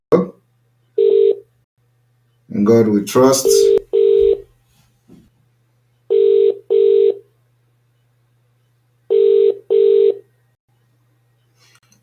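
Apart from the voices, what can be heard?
telephone dialing tones and ringing for a phone call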